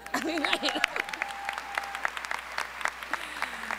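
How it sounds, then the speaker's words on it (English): An audience at a teachers' summit applauds after a finalist is announced, with steady, dense clapping throughout and a few whoops and cheers near the start. "I just like the sound of claps, so we could do that again."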